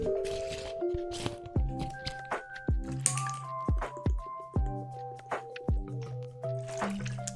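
A person drinks water during a lo-fi ASMR session, with a series of close gulps and wet swallowing sounds over soft tonal music.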